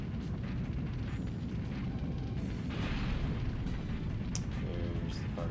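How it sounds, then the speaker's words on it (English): A fire spell from the Legend of Dragoon boss battle against the Fire Bird, a steady roaring, rumbling blaze with a brief swelling burst near the middle and a few crackling pops toward the end. "There's the fire spell."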